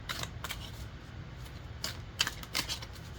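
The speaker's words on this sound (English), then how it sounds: "I'm still shuffling, not accepting any cards right now." A deck of tarot cards is shuffled by hand at close range, with soft riffling rustles and sharper snapping clicks recurring in irregular bursts, without any talking.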